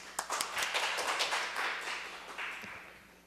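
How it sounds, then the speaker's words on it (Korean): Light, scattered clapping from a small group, starting sharply and thinning out, with a few isolated claps near the end. "발제자분께 큰 박수 부탁드립니다."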